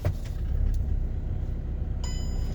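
VW Caddy van reversing, a low steady engine rumble up close, with a light metallic jingle near the end.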